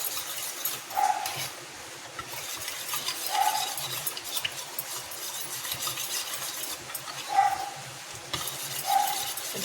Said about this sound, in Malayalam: നന്നായിട്ട് നമ്മളൊന്ന് ഇളക്കി കൊടുക്കണം